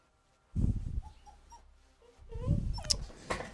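A small dog makes faint whimpering squeaks and snuffly noises close by, in a few short bursts with rustling between them.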